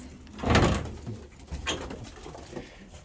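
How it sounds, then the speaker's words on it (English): Young pigeons in a loft give soft, close squeaks and coos, a few short bursts spaced over a quiet background, with one fuller rustling call early on. "some of these are still squeaking a little bit"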